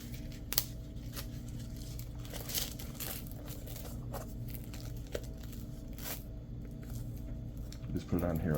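Scissors snip and crinkle through material while a Velcro patch is cut out, small irregular crunching cuts close up with a person talking over them.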